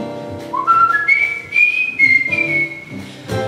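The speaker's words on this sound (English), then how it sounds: "I whistle back their happy tune." A person whistles a bright, lilting melody up close, the notes sliding and held, with short breaths between phrases.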